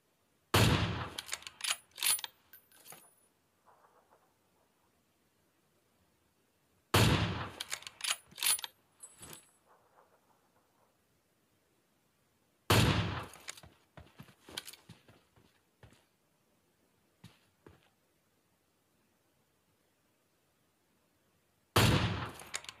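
AWM sniper rifle fire in PUBG Mobile, sharp loud reports arriving in four separated bursts, each followed by quieter mechanical bolt-action clicks and near silence between.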